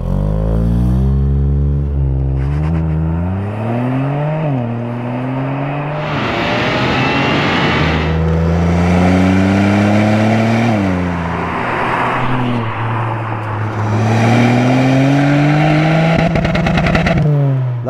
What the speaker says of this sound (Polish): Dlatego, że jest to 1-litrowy silnik 3-cylindrowy.